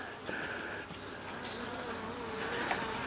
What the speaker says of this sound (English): Just be careful you don't squash any bees.